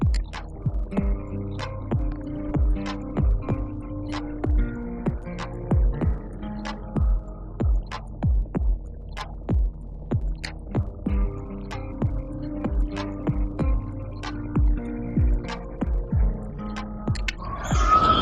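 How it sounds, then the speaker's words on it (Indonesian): A steady, regular tone serving as an example of a musical note, made up of repeated even pulses with a throbbing, humming character that continues alone for about eighteen seconds. "yang ini adalah contoh bunyi beraturan"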